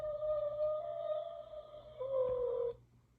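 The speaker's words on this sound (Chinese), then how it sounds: "大家有听到吗？这就是金鱼的声音。" A goldfish sound effect from a pressed button in a children's sound book: one sustained, gently warbling electronic tone that holds for about three seconds, shifts pitch near the end, then cuts off abruptly.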